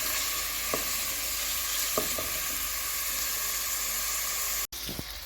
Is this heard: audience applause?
no